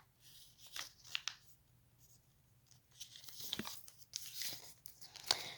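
Sheet of paper folded from bottom to top while crafting a paper figure, soft crinkling and rustling in a few brief bursts with quiet gaps between, close and faint.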